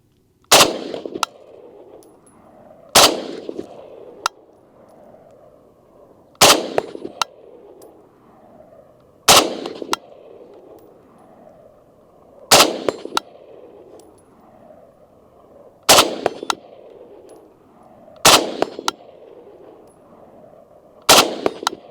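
An FN FNC rifle fires at downrange targets, sharp loud single shots spaced a few seconds apart, about nine in all, each with a short metallic ring after it and no talking.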